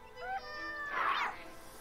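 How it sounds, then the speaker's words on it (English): A horned kitten from the Lost Grimoires: Stolen Kingdom video game meows in a pair of short rising calls, then a louder drawn-out cry, heard close with no talk over it. "That is a kitten with ram's horns."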